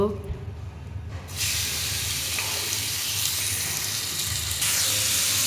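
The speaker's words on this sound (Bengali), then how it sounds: "পেঁয়াজগুলো ভালো করে ভেজে নেব।" Chopped onions frying in oil in a pan for a hilsa fish dish, a steady close hiss and sizzle that swells louder partway through and holds to the end.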